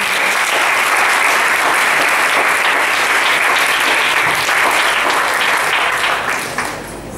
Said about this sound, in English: So can we give a round of applause for the